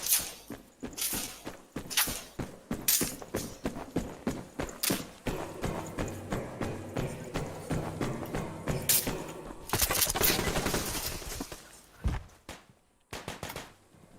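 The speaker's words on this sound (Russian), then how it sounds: "С третьего этажа стреляет." Gunfire in the Survarium video game: sharp, repeated shots in irregular bursts, some close and loud, mixed with footsteps and clattering movement, then a denser stretch of noise before fading.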